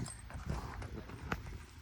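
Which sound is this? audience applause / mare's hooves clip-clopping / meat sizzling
mare's hooves clip-clopping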